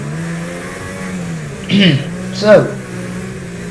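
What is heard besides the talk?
Audi car engine revving in the F1 2016 video game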